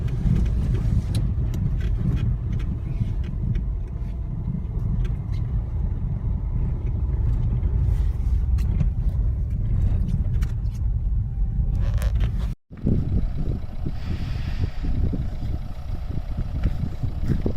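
A heavy machine moves ahead along a hard-packed snowy road in the Lahaul valley. Its steady, loud engine rumble carries scraping and grinding textures, with a brief dropout partway through and no talking over it.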